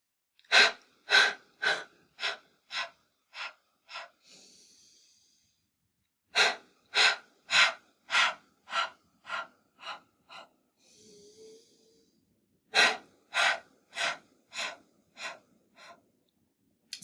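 Yoga crying breath: repeated sharp, sobbing inhales in quick bursts followed by a sighing exhale through the mouth, done in three close, loud rounds with no talking.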